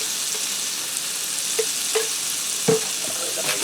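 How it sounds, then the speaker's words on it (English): Garlic frying in a pan for creamy garlic chicken, a steady sizzle punctuated by a few sharp spatula taps and scrapes as it is stirred. "I'm going to give that a stir."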